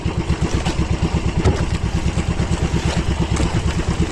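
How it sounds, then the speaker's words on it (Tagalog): An overheating boat engine chugs steadily at idle with a rapid rhythmic putter and some rattling, loud and close throughout. "nag-overheat na aking makina"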